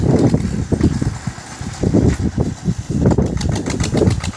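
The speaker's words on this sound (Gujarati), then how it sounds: "જો કાકા ટ્રેક્ટર લઈને જાય છે" A tractor rumbles past nearby, its engine chugging in uneven, throbbing bursts at a fairly loud level with no talking.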